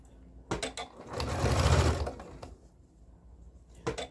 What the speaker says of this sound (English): I'm just basting it with the machine.